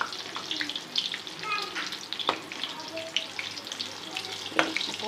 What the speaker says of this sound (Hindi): से थोड़ी सी कम हीट पर फ्राई करते हैं